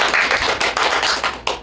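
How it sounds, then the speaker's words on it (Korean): A small group claps during a Korean political talk broadcast, a short burst of scattered hand claps with uneven rhythm, close and fairly loud, with no talking over it. "박수 한번 보내드릴까요?"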